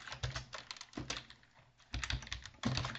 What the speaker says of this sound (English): Go ahead and type